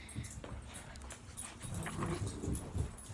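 A pet dog growls low and rumbling in a steady run of throaty sounds, close by, with no talking over it.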